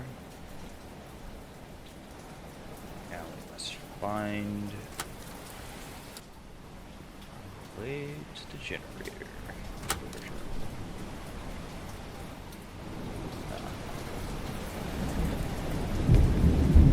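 Steady rain and rolling thunder outside a police station in a horror video game, continuous rainfall with thunder building louder toward the end, under someone speaking briefly and a few in-game tones.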